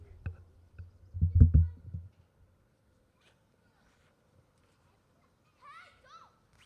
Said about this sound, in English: Enjoy the peaceful sounds of children screaming.